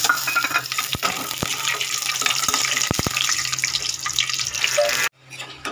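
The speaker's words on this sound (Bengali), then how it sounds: "বড়িগুলো আমি ভেজে নেব" Lentil dumplings (bori) fry in oil in a wok, giving a steady loud hissing sizzle with a few sharp clicks and knocks. The sizzle cuts off abruptly near the end.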